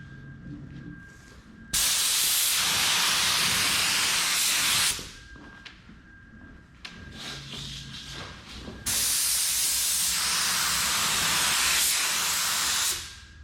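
A spray gun lays clear coat paint onto a car dashboard on a Z28, making two long, loud, steady hissing bursts of several seconds each with brief quieter gaps and short puffs between them.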